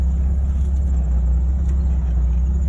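A Jeep engine drones in a steady low rumble as it crawls up a steep 35% grade without throttle, the sound constant and close with no talk.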